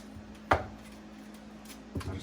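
A kitchen knife cuts potatoes in half on a board, giving two distinct chops: a sharp loud knock, then a softer one about a second and a half later, over a faint steady hum.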